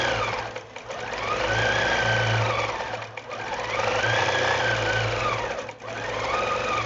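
A sewing machine doing free-motion quilting with tiny stitches at a high stitch-per-inch setting, running in a loud, fast, even whir that swells and dips in two long passes, with short pauses between them.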